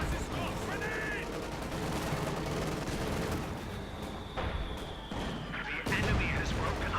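Machine-gun and artillery fire from a Company of Heroes 2 match: steady dense crackle of battle gunfire with bursts and explosions throughout, moderately loud, under a commentator's ongoing talk.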